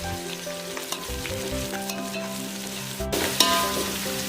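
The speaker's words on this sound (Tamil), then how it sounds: "நம்மளுக்கு வெங்காயம் நல்லா வதங்கணும்." Onions sauté in hot oil for fish biryani, a steady sizzle and crackle that runs throughout. A spoon stirs them with scraping strokes now and then, and no one speaks.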